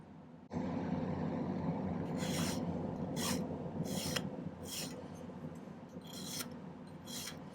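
Steady rasping strokes of a file tapering the ends of silver filigree wire for a handmade pendant, a close continuous scrape with about seven crisp, regular passes standing out above a low room hum.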